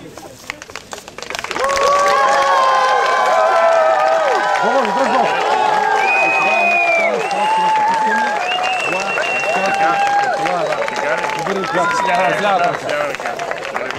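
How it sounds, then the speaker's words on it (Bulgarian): An audience applauds at a regional governor's greeting to scouts in Shumen, Bulgaria, with steady, dense clapping and some voices in the crowd, continuing throughout at a fairly loud level. "Моля, аплодисменти!"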